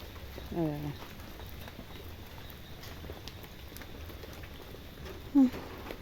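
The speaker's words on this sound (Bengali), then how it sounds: "বৃষ্টিতে বাইরে বেরোনো যাচ্ছিল না এত বৃষ্টি হচ্ছে আজকে" Steady heavy rain patters and hisses in the background in Bengal, with a voice speaking briefly over it twice.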